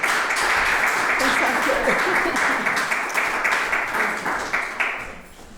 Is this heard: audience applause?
yes